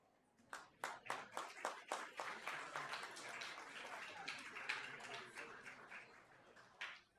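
A room at a school board meeting breaks into applause, starting with a few distinct, rhythmic claps that swell into a steady wash of many hands, then thin out to a last scattered clap.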